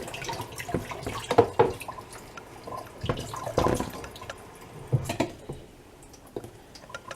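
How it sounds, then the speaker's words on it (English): Mushrooms rinsed under a running kitchen tap, with soft splashes, drips and squishy handling sounds in uneven bursts, close and fairly quiet, with no talking. "Now we're going to give it a quickie rinse,"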